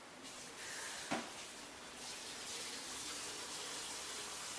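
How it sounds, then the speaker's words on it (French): Tap water runs steadily into a sink during dishwashing at home, a constant broadband rush with a brief clatter near the start, no talking. "je vais faire ma vaisselle"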